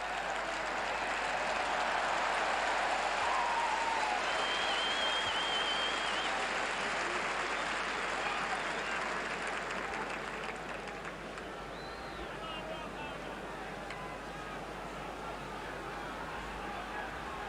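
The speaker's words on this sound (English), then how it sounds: "The crowd yelling their support from the northern stand for the All Blacks." A rugby stadium crowd in the northern stand cheers for the All Blacks at a 1986 Bledisloe Cup test against Australia, a broad roar that swells early and then settles into a lower murmur, with a commentator talking over it.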